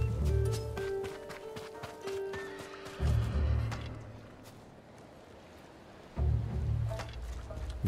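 In the video game Ghost of Tsushima, a horse whinnies at the start amid clopping hooves, then heavy hoofbeats come in two bursts separated by a quieter stretch.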